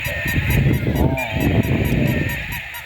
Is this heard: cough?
no